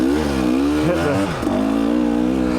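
A 2020 KTM 300 XC TPI two-stroke dirt bike engine runs loud and close, then its pitch sags and stumbles as the rear brake is hit and it stalls, with a brief dip before sound resumes.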